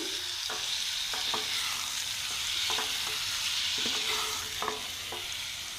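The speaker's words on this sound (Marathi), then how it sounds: "आता आपण मसाला लावलेला कोलंबी टाकून घेऊ याच्यात आणि ह्याला सुद्धा ढवळून घ्यायचे" Masala-marinated prawns sizzle in a pan for prawn biryani while a spoon stirs them, a steady frying hiss broken by several scraping knocks against the pan, close and without talk.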